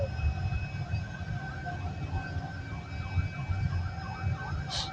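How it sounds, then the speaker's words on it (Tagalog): A wailing fire truck siren sweeps up and down repeatedly over rumbling street noise on a Manila city street, moderately distant, with a brief bright burst near the end. "Bumbero yan."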